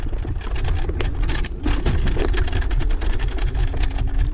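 A scooter motor runs with throttle applied, a loud, close rumbling engine drone with fluttering, uneven pulses and some clattering noise, heard without talk.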